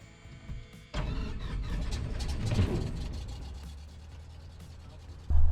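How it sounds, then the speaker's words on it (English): A small airplane engine cranks and catches at about one second, then settles into a loud steady low rumble with a rough texture, and a further surge comes near the end. "And ignition switch starts."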